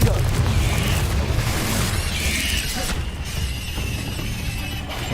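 A Confringo fire-blast spell in Hogwarts Legacy bursts with a bright crackling boom and shattering debris, followed by softer magical whooshes and rumbling effects in busy game audio.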